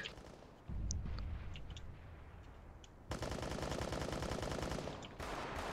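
Rapid automatic gunfire in Counter-Strike on the Mirage map, with sustained loud bursts of shots that shift in intensity, dense and continuous with faint clicks between.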